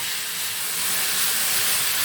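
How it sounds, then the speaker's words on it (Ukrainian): Chicken meat sizzling in a pan of oil for a bright chicken salad, a steady close hiss filling the whole stretch without pause and no voices over it. "Дивіться, шкварчить."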